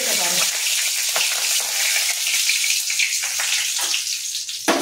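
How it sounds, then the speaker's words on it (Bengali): Curry leaves tempering in hot oil over a low flame, a loud, steady sizzle close by that crackles and hisses continuously with no talking. "এবার এই তেলেই আমি দেব কারি পাতা ফোড়ন"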